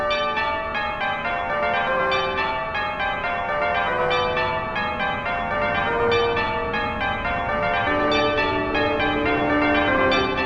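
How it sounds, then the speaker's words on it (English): Large clock-tower bells of Big Ben in London ringing out a melody from the video game Undertale, a redubbed soundtrack; dense, continuous overlapping chimes with sustained ringing tones fill the whole stretch, loud and without any talk. "the giant clock tower known as Big Ben in London played music from the video game Undertale"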